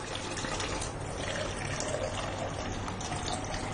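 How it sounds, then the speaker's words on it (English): Cold water streams steadily from the outlet of a shell-and-tube heat exchanger into a 200 ml container, making a continuous, even splashing rush with no talking. "Now I am checking the mass flow rate of the cold water outlet, and I am taking the 200 ml container for this"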